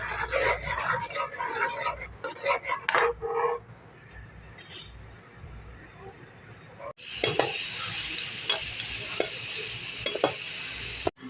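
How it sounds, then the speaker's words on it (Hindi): Onions frying in hot oil in a pan, sizzling and crackling with occasional stirring clinks, loud and close, briefly dropping quiet midway before the frying resumes. "अब हमारा ऑयल गर्म हो गया है। इसमें 3 काटे हुए डालेंगे प्याज और प्याज को करेंगे ब्राउन।"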